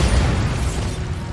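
Bombarda explosion spell cast in the video game Hogwarts Legacy, a loud, dense blast of rumbling, crackling noise that holds steady for over a second before easing slightly.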